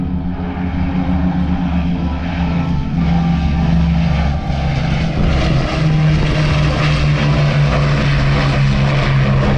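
A vintage propeller warplane from the Battle of Britain Memorial Flight flies a display at the 2022 Southport airshow, its piston engine droning loud and steady throughout with a rising, rumbling roar as it passes.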